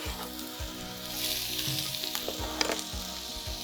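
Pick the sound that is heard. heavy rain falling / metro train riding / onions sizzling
onions sizzling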